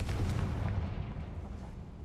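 Booming blast of the Confringo fire spell in Hogwarts Legacy, a loud low rumbling explosion that fills the moment and slowly eases off, with no talking over it.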